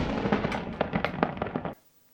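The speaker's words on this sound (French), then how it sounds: "La visite démarre officiellement avec le premier tir de canon." A ceremonial cannon salute fired in Monaco, heard as a dense barrage of sharp cracking bangs and rumbling reports over about two seconds, loud and fairly close, ending abruptly into near silence.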